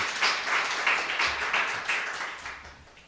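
A small audience at a poetry reading claps in a brief burst of applause after a poem, the patter fading away after a few seconds.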